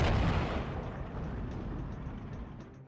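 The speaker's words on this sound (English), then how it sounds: "start to shoot at the incoming units with our 80 gun" A 53K 80 gun artillery piece fires in the WWII strategy game Steel Division II, a loud booming blast that rolls off into a long fading rumble, with no one speaking.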